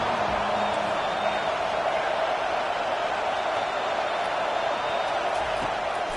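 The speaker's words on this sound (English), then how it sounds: "Decibels rising as the crowd gets behind this defense on third down" A stadium crowd at an American football game roars steadily behind the defense on third down, a dense, continuous wash of cheering and whoops held at an even level throughout.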